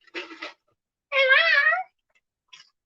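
A house cat lying at someone's feet meows clearly: a short call, then a longer rising-and-falling meow, and a faint brief chirp after, with quiet in between.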